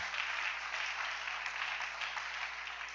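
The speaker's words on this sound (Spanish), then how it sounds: "Denle un aplauso al Rey." A church congregation claps together in sustained, even applause, a continuous patter that holds steady for the whole stretch.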